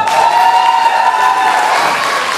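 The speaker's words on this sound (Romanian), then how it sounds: "Aplauze, aplauze și multe felicitări!" Audience clapping steadily at a graduation and oath ceremony for a postsecondary nursing school, a dense, even wash of applause lasting throughout, with a sustained tonal ring above it.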